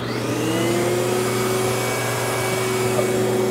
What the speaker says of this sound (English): I'm gonna show you a light vacuum, which most people want, that'll pick up the dirt better than most.